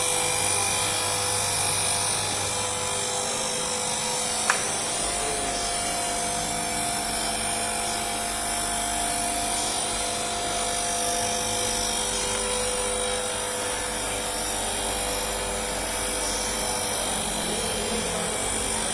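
An electric paper drilling machine runs steadily throughout, a continuous motor whine with a low hum that shifts slightly around the midpoint, plus one brief click partway through.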